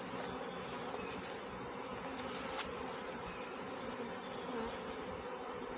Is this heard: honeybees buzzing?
yes